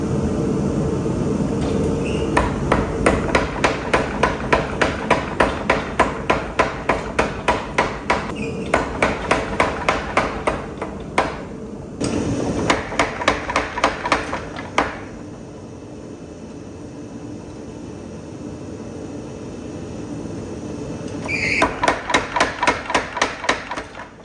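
Hammer forging a copper damascus pan handle, with rapid runs of sharp metallic blows broken up by short pauses, close and loud over a constant hum of machinery.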